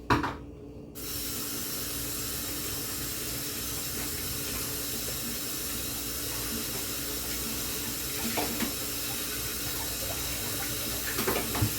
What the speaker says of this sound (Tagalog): Maghugas muna tayo ng plato